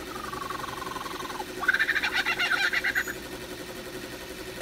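A lyrebird imitating a kookaburra: a loud call bursts into a raucous, rapidly pulsing cackle for about a second and a half, echoing over a steady background hiss.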